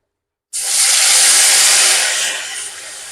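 A paste of ground cashew, ginger and tomato hitting hot oil for a vegetarian green banana kofta curry, bursting into a loud, close, broadband sizzle that rises abruptly from silence and eases slightly toward the end.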